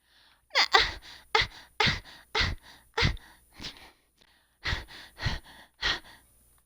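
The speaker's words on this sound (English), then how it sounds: "Sorry for the heavy breathing" Heavy breathing close to the microphone, about ten sharp, loud gasping breaths in an uneven rhythm with short pauses, no talk.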